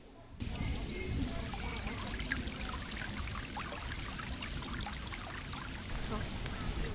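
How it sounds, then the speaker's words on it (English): Water trickles and splashes steadily from the Buxton public water fountain at St Anne's Well in the Peak District spa town. The flow is continuous, at moderate loudness, with possible faint talk in the background. "we've actually got the Buxton water fountain"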